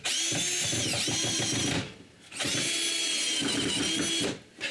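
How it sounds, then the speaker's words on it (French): Power drill driving screws into wood while fitting a slide at a chalet, two sustained loud whirring runs close by, each ending abruptly with a short pause between. "Maintenant, avec des vis qui tiennent en place, c'est bien plus facile à visser."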